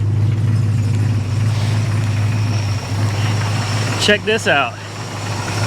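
A 1973 Plymouth Scamp flood car's engine idles steadily with a low, even hum, then briefly revs in a couple of quick bursts near the end, while someone talks over it.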